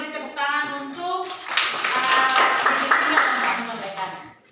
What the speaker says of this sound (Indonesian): kita beri tepuk tangan untuk